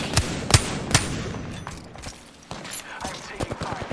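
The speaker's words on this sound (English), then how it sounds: "I'm taking fire." Gunfire in the battle royale video game Apex Legends, several sharp bursts of shots near and far, with a spoken voice over the ongoing game sounds.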